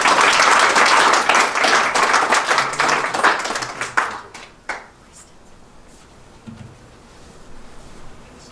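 A book launch audience applauds to welcome a speaker: dense, loud clapping for about four seconds that thins out and stops, leaving quiet room sound with faint rustles.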